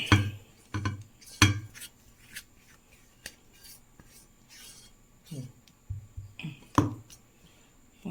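A spatula scrapes mango pickle from a pan into a bottle in repeated sharp, close scrapes and taps, separated by quiet gaps.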